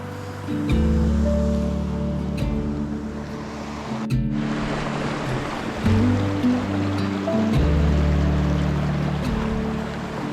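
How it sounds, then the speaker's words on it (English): A river flows beside a walking path in Zion National Park near the Grotto, giving off a constant rushing wash of water with a low droning hum underneath, and no voices are heard. "We're down here by the river walking."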